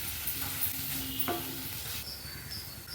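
A spoon stirs jackfruit seed masala in a hot pan, scraping and sizzling continuously at close range, with a steady frying hiss underneath.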